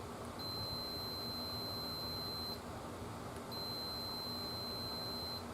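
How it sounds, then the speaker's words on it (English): Two long, steady high-pitched continuity beeps from a Fluke 77 multimeter testing a bass guitar's pot and plate sound in sequence with a brief gap, faint over a quiet background hiss. "I get a beep, which means I've got continuity."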